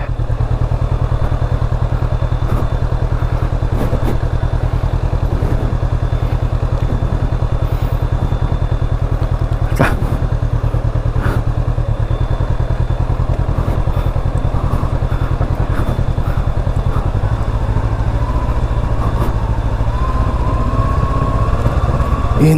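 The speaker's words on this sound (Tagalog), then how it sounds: "Engine brake tayo." Motorcycle engine braking on the Atimonan to Mauban road, a loud, continuous low engine drone with steady rumble and occasional clatter and thumps from the ride, no talk.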